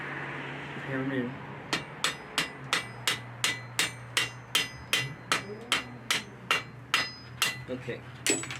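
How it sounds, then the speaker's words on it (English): A quick voice comes first, then a close, regular run of sharp hammer strikes rings on metal while a campfire pan holder is forged in the traditional way, over a low steady hum. "Hammer it in."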